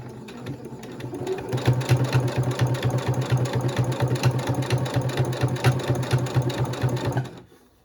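Sewing machine stitching a tote bag strap, running steadily for about seven seconds in a fast, even mechanical rhythm up close, then stopping near the end.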